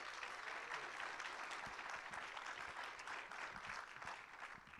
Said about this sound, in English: The clapping after was, sorry, it's just funny sounding.